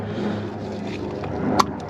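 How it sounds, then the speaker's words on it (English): A helicopter passes overhead outdoors during a 2014 Toyota Camry oil change, giving a steady broad rumbling drone that stays loud through the moment and covers other sounds. "As a helicopter goes by and is ruining my video"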